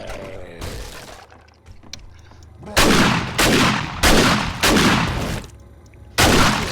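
Gunshots in the zombie survival game 7 Days to Die: after a quieter stretch, five loud, sharp bangs ring out at roughly regular intervals, each with a short decaying tail, close and punchy.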